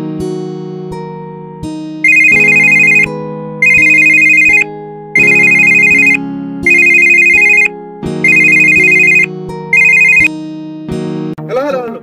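A mobile phone ringtone rings loudly in repeated electronic melodic bursts, about six rings across the span, with a voice talking faintly underneath between them.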